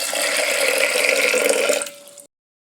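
Water pours steadily into a cooking pot of soaked black-eyed peas, a close, full splashing rush for about two seconds before it cuts off abruptly.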